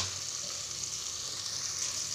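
Onions and ginger-garlic paste frying in a pan for vegetable biryani make a steady, soft sizzling hiss that stays even throughout, fairly quiet, with no voices.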